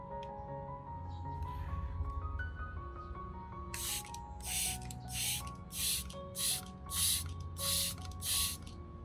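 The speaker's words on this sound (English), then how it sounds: "For best results, I mist from top to bottom, lightly passing over the stem." A spray bottle mists an orchid stem in a run of about eight short, soft, evenly spaced spritzes over a faint, steady tonal hum.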